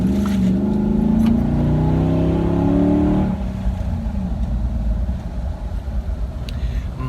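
Pickup truck with a built 545RFE transmission and EDGE 2800 stall torque converter accelerating hard, a loud rising engine roar for about three seconds that drops off into a steady lower rumble as it pulls away.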